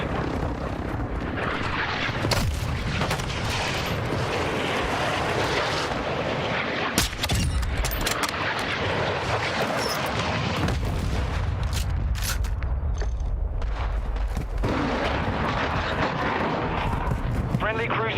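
Airstrike explosions and aircraft roar in the Call of Duty Warzone battle royale game, a loud, continuous wash of booms and engine rumble with sharp blasts around the middle, steady throughout.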